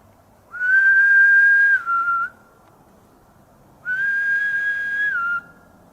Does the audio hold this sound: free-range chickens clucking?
no